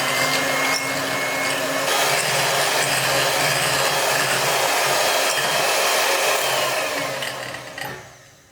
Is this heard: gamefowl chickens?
no